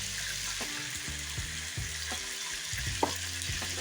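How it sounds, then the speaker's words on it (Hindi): Chicken frying in a pan with salt and turmeric gives a continuous close sizzle, broken by a few soft stirring knocks and scrapes, with no talking. "अब इसको हम फ्राई करेंगे"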